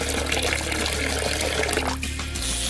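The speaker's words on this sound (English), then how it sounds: "Now watch what happens when we add water." Water is poured onto sliced slime craft material in a Halloween DIY project, giving a steady splashing and trickling wash over a dense, busy background.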